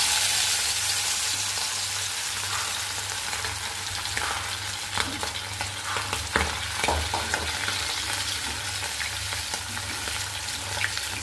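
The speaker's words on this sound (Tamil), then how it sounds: "இப்போ நம்ம செஞ்சு வச்சுருக்க போட்டியை வந்து எண்ணெயில் விட்டுறலாம்" Mutton tripe pieces frying in hot oil, a constant bubbling sizzle close by with occasional stirring scrapes, moderate in level and without talk.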